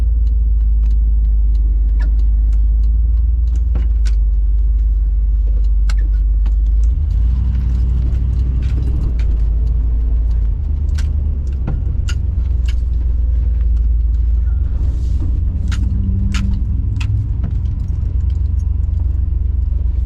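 A truck engine rumbles steadily and loud throughout, with low road drone and a few light metallic clinks, as on a supply run for an RV rebuild; no talk is heard.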